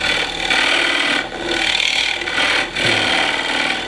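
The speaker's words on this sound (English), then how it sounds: "I'm just using the detail gouge here." A detail gouge cuts a birch wood bowl spinning on a lathe, giving a steady, loud scraping hiss that runs almost continuously, with two brief dips where the tool lifts off the wood.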